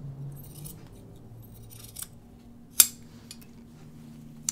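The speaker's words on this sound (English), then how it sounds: "I'm gonna trim a little bit of this" Scissors trimming thick fabric near the shoulder of a shirt dress, a few quiet snips and one sharp close metallic cut, over faint room hum with no talking.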